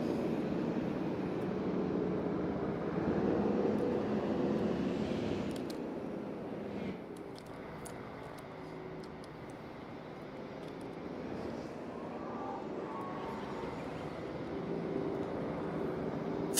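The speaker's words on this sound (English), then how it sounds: "A migrating flock of helicopters passing overhead." Helicopters in the game Jurassic World Evolution 3 pass overhead as a faint, steady droning rotor hum that swells slightly and then fades, with a few light clicks in the background.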